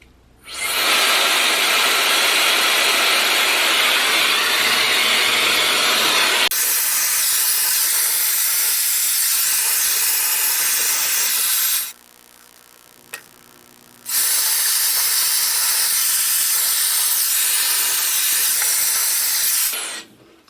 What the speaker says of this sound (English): I'm going to turn this on like medium heat, the highest fan, and I'm just going to get this dried a little bit.